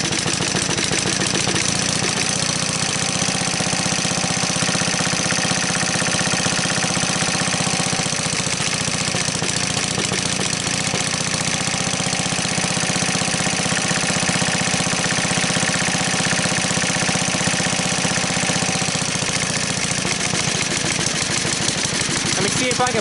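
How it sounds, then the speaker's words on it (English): A 1953 Onan generator engine running rough with its choke closed, a continuous loud mechanical drone with uneven knocking pulses, close up and steady throughout, no talk over it. "So it may run pretty poorly like this until that choke opens up."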